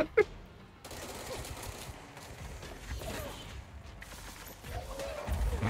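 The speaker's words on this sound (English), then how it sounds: "bullets everywhere" Gunfire rattles through a fight in the Control video game, with scattered bursts and mechanical clatter at moderate volume and a sharp hit near the start, amid the noise of the room.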